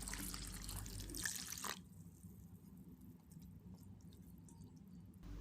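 Semolina and sago rinsed with water by hand, a brief burst of splashing and dripping at the start, then quieter squishing and trickling water close by.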